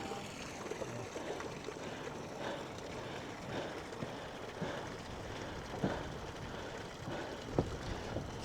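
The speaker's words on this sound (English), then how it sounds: "You hear the drop of the little waterfall there." A small waterfall splashes with a soft continuous rushing and occasional sharper drips, faint and somewhat distant, in an outdoor setting at Yellowstone's Canyon Village among steam vents, with wind noise and no talking.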